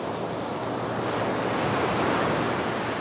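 Steady outdoor wind on a cold, damp 60-degree day, a continuous broad rushing roar with a surf-like wash, loud and unbroken throughout with no talking.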